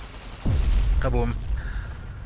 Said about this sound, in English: There's a nuke to explode!